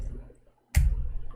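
A single sharp click from a faulty computer keyboard key, close and distinct after a brief hush, with a low background rumble around it.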